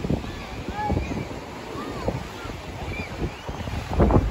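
Surf washes onto a crowded Fort Lauderdale beach near the pier, a continuous rolling roar buffeted by wind against the microphone, with faint voices in the distance.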